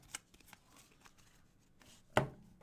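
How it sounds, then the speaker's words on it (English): A deck of football trading cards gets a quick riffle shuffle, a few soft flicks building to one sharp, close snap of cards near the end, with no talking. "One more quick shuffle."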